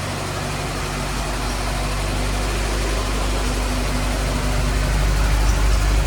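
A car engine idling just before being shut off, a steady low rumble with a constant hum that stays loud and even throughout, with no talking over it.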